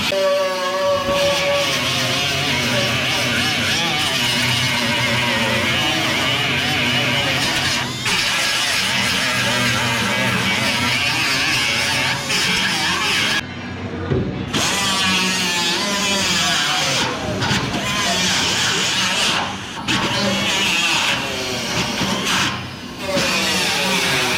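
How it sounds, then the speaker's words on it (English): An angle grinder cutting a gap into body metal on a 1962 International Travelall, a loud continuous whining drone that runs steadily with brief dips and pauses, no voices heard. "So we're going to grind our gap into this right now."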